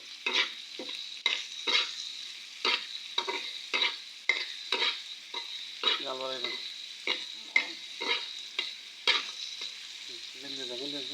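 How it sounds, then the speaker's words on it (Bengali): Loitta fish frying with onion, potato, green chili and chopped garlic, a spatula scraping and tossing in rhythmic strokes over a steady sizzle, close and fairly quiet. "এখন 2-3 মিনিট ভালো করে ভেজে নিব।"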